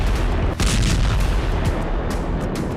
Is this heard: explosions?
yes